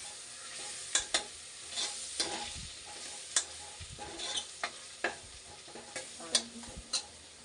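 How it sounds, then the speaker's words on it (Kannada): Sambar powder being fried for avarekalu (hyacinth bean) sambar: a steady sizzle with repeated scraping stir strokes and light clinks, moderately close, with no one speaking. "ಇದನ್ನು ಹಾಗೆ ಫ್ರೈ ಮಾಡಬೇಕು ಫ್ರೆಂಡ್ಸ್"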